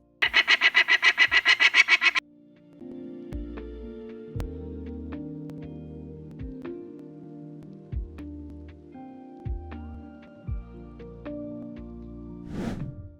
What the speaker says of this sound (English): Peregrine Falcon.